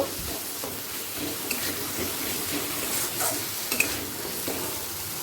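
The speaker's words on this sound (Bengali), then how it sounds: "আদা রসুন বাটা দিয়ে দিচ্ছি দিয়ে সব মশলা পেঁয়াজের সাথে ভালো করে কষিয়ে নেব" Ginger garlic paste and spices fry with onions in a pan, a constant close sizzle broken by soft scraping stirs and a few small pops.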